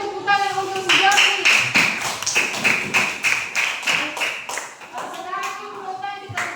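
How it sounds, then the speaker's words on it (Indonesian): Children in a classroom clap for a classmate, a burst of loud, rhythmic, closely spaced hand claps with kids' voices calling and chanting over them, easing toward the end. "Berikan tepuk tangan untuk si Jordi."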